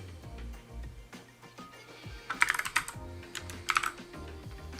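Computer keyboard typing, with quiet scattered keystrokes early on that give way to two short, louder bursts of rapid clicking, close to the microphone and with no talking.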